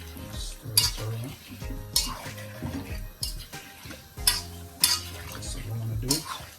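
Jamaican-style brown stew chicken being stirred in a pot, with sharp spoon-on-metal clanks and scrapes recurring every second or so over a faint sizzle and background music, no talking.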